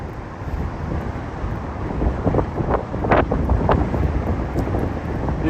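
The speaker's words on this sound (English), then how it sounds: "Dang, it's windy." Strong gusts buffet a microphone outdoors, a steady low rumble swelling and easing throughout with no voices.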